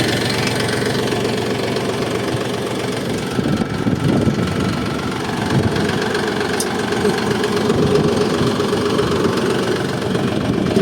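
A loud diesel engine on a new 35-horsepower DTZ 354U tractor idles steadily nearby, a constant rumbling chug with a knocking rhythm and no talking.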